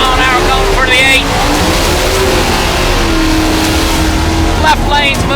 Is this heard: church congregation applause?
no